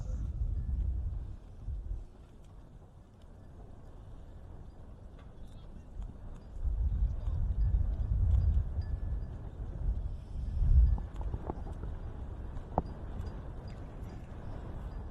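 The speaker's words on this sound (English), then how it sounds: "Heta coming out on a horse called Amber." Polo ponies' hooves thud and clop across turf at a polo match under steady wind noise, with a commentator talking over the galloping.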